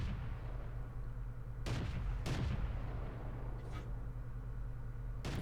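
Tank guns firing in World of Tanks during a Crusader self-propelled artillery match: several sharp booming shots spaced a second or more apart over a constant low engine rumble, without talk.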